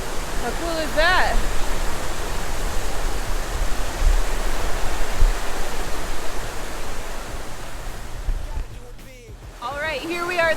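Mountain river rushing at a trail crossing on the Timberline Trail at Mount Hood, Oregon, a constant loud broadband roar of flowing water heard close, with brief voices talking over it.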